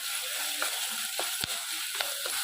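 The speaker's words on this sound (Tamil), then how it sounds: "இஞ்சி பூண்டு பேஸ்ட்டோட பச்சை வாசனை போகிற அளவுக்கு நல்லா வதக்கிக்கணும்" Ginger garlic paste sizzling and frying in a pan with a steady hiss, a few soft stirring scrapes and clicks, and no talking.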